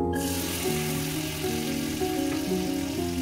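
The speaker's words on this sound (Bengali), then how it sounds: "এবার একটা কড়াইয়ে তেল দিলাম, ওতে একটু বাটার দিলাম" Oil and a little butter sizzle steadily in a wok on the stove for a vegetable manchow soup, a close, even frying crackle that fills the whole stretch without pause.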